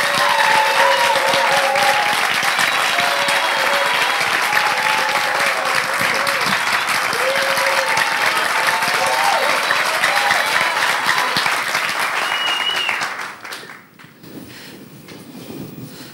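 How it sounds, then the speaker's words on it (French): Dense, loud applause from an audience welcoming Congolese presidential candidate Joseph Maluta onto a broadcast set, sustained steady clapping with some cheers for about thirteen seconds before fading into a quieter room. "C'est Joseph Malou-Tamba que nous allons recevoir sous vos applaudissements."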